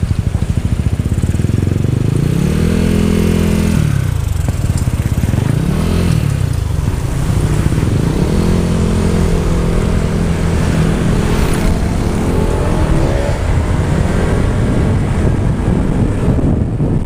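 A motorcycle runs continuously on a group fun ride, its engine note rising and falling through gear changes, with heavy wind rushing across the microphone throughout.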